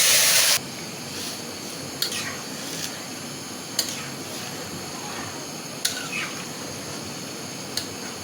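Fried onion and garlic tipped into hot oil while cooking Malabar spinach with masoor dal, giving a steady hissing sizzle after a brief loud burst at the start, with a few sharp clinks of utensils.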